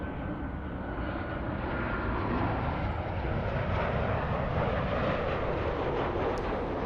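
A British Airways Boeing 777 airliner arriving from Heathrow on a south side approach to LAX, a steady loud broadband engine roar swelling slightly as it nears, with no voices.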